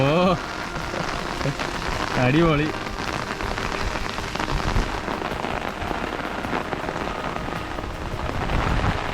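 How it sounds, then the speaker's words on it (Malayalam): Heavy rain pours steadily on a surface during a KSRTC bus trip to Ranipuram in Kasaragod, a loud continuous wash of drops throughout, with brief speech near the start. "മഴ മഴ എന്ന് വെച്ചാൽ പെരുമഴ"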